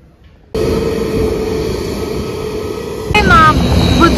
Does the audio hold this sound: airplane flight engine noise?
yes